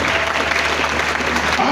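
Loud congregation applause during a Thursday church worship service, a dense continuous roar of clapping with voices mixed in, close and sustained.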